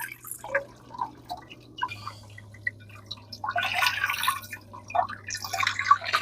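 Honey drips out of a pot of melting beeswax during rendering, a series of small wet drips and patters close by, growing busier and more splashy toward the end over a low steady hum.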